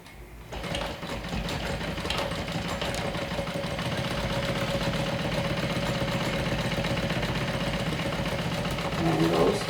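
A sewing machine runs continuously, stitching around a pocket during garment interior assembly. Its rapid, even needle clatter is close and steady for several seconds, with a faint voice behind it.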